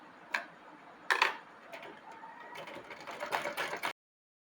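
Sewing machine stitching fabric for panties, a brief mechanical tick, then a sharp burst and a steady whirring run of stitching that builds slightly before stopping abruptly.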